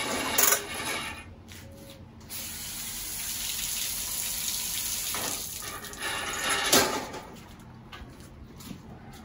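Water runs and splashes steadily over an orchid mount for a Phalaenopsis, a continuous close wash with a few louder gushes and small knocks.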